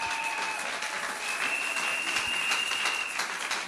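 A church congregation applauding in praise, a dense, steady wash of many hands clapping with a faint sustained tone running underneath.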